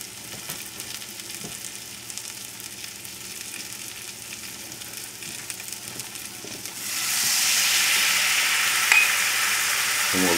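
Wine and a light butter-and-flour roux sizzle steadily in a pan for escargot; partway through the hiss abruptly swells louder and stays bright, with no one talking.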